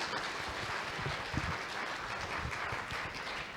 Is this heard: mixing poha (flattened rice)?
no